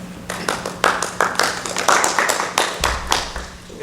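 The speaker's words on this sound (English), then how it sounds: "Okay, clap." A small group of people clapping during a Texas State Representative candidate forum, with sparse, uneven claps that come in loose bursts over a low background hum rather than sustained applause.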